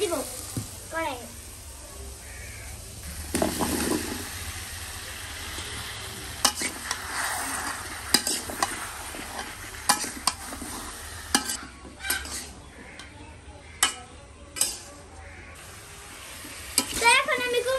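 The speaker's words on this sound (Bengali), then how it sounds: "তো এখন আমি কুমড়াকে ভালো করে কষিয়ে নিব।" Ash gourd stir-fried in a wok with onion and spices, giving a low sizzle broken by repeated sharp scrapes and knocks of the spatula, with brief talk early on.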